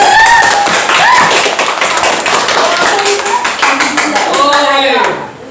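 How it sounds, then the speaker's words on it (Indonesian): Schoolchildren clap together in a classroom lesson, loud brisk clapping from a group close by with excited voices and chatter over it, fading near the end. "Kasih tepuk tangan."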